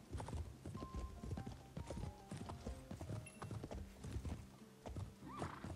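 Galloping horse hooves from a horse game app on a phone, a rapid continuous clip-clop rhythm of close, crisp hoof beats with occasional brief whinny-like tones, playing on its own without talk.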